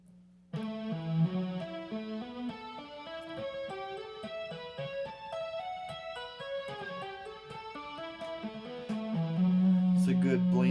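Slow two-handed tapped electric guitar notes ringing out in a steady stepping melody, clear and close, with a held lower tone swelling near the end.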